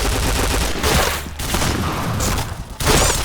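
Rapid bursts of gunfire in the Point Blank shooter video game, with overlapping fusillades and machine-gun rattles crackling loudly, broken by brief gaps before another sharp volley.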